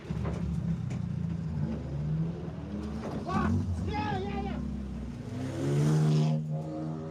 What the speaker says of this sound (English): Car sounds like it's running.